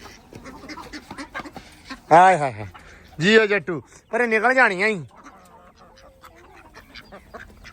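Ducks roaming around a coop being built for chickens give three loud bursts of harsh, raspy quacking close by, with someone talking over and between the calls.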